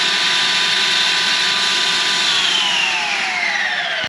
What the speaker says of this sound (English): it's loud. And when I say loud, I mean loud like let's bring power tools in from the garage and run them in your kitchen